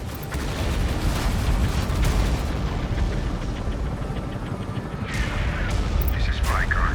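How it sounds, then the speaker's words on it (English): Heavy artillery barrage in the Tom Clancy's EndWar video game, dense rumbling booms and explosions rolling continuously and loudly, with brief higher crackles near the end. "Artillery fire on our position."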